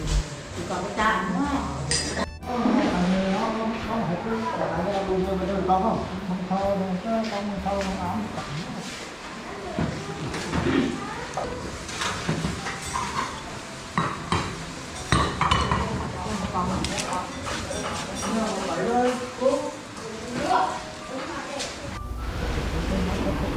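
Dishes and plates clink and clatter repeatedly under ongoing conversation, with running kitchen noise in the background, in a Vietnamese family home.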